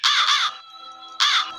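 A crow caws twice, loud and near: a harsh, drawn-out call, a short pause, then a second call, with no other sound.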